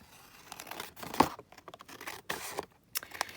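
Piece of card being cut down by hand in a papercraft workshop, a few short close crisp cutting and rustling bursts with quiet gaps between them.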